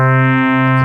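A steady FM chiptune synth tone with one operator modulating another, sustaining a bright stack of even harmonics alone and fairly loud for under a second, its upper partials shifting as the modulation comes in.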